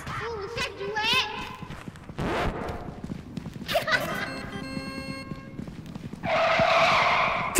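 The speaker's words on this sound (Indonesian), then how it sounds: "Kenapa ada suara mobil?" A car in the video game Content Warning makes skidding and engine noise, with a louder rushing burst near the end, mixed in among several people talking.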